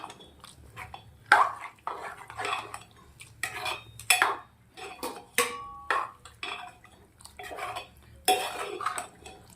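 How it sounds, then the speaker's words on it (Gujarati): Vegetables and chopped green garlic stirred in a clay pot, an irregular series of close, clattering scrapes and knocks from a spoon against the pot, separated by short pauses. "જે આપણે લસણ સમાર્યું છે લીલું એ પણ નાખી દેવાનું છે અને સરસ હાંડલીના અંદર મિક્સ કરી દઈશું"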